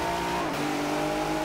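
A Ford F-150 Raptor revving hard in Forza Horizon 4 online, a loud continuous engine roar with a brief dip like a gear change partway through.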